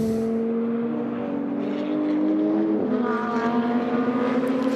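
A KTM GT2 race car engine drones steadily as it climbs a hill at the Red Bull Ring circuit, its pitch holding then shifting around a gear change, loud and continuous with no voices.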